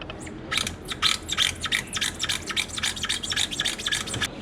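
Ratchet wrench undoing a 14 mm nut on the brake master cylinder of a 6x6 Perentie, rapid clicking bursts repeated steadily up close, with no talk.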